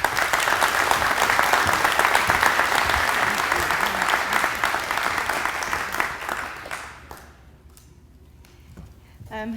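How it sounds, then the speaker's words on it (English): A crowd at a chamber of commerce business awards lunch gives a big round of applause for an honoree. The sustained, loud clapping carries for about seven seconds, then dies away as a voice begins speaking. "So please give Lisa Raines Hopkins a big round of applause"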